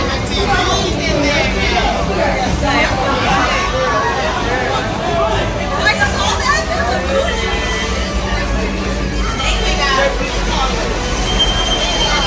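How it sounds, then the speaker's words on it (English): Steady rumble of a scenic train ride around Stone Mountain, Georgia, with rattling cars and squealing wheels, crowd chatter and voices murmuring throughout. "let's go take this train ride around Stone Mountain now."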